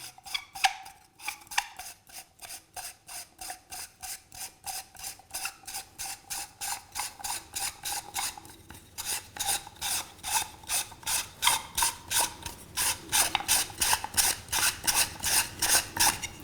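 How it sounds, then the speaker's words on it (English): A threaded plug is screwed by hand into the back of a universal lock holder insert, giving a long run of steady, rhythmic ratcheting clicks and rasps that quicken and grow louder toward the end, close and alone. "I'm gonna go ahead and put the plug in the back of the insert here. I'm gonna screw it all the way to the front here."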